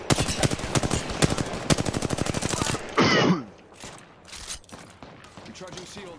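Rapid automatic gunfire from an Apex Legends firefight, a dense burst of loud close shots for nearly three seconds, then a sharp blast and scattered fainter shots, with players talking over it.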